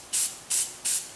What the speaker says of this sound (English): Now with our black, remember to make sure to spray down because you don't want any black going underneath your stencil.